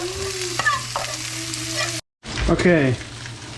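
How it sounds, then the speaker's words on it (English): A vegan gyro log sears in a hot pan with a steady sizzle and crackle; a voice speaks briefly over the frying, which cuts out for a moment and resumes. "we are going to drop this whole thing into a hot pan, and we're gonna sear this like a log of meat."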